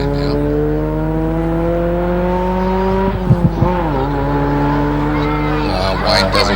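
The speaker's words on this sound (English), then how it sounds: "Looking at the Wayne Casey Mazda MX-5 leaving the chicane now." A Mazda MX-5 race car at a hillclimb drops off the throttle for the chicane, then revs back up with rising engine pitch and brief harsh gear-change bursts, loud and close, while a commentator talks.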